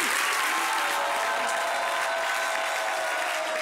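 A studio audience bursts into loud, dense applause that holds steady throughout, a continuous wash of many hands clapping close by.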